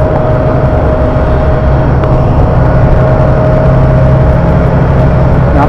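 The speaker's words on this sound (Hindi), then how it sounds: "इंजन के बगल में बहुत साउंड आ रहा है" A boat engine heard right beside it on a ferry carrying vehicles, producing a loud, unbroken droning roar with a steady whine that holds without pause, with no voices.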